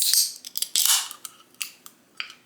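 Scissors snip through fabric pieces for a large sewn toy worm, giving a series of crisp, close cuts in uneven bursts with short pauses between.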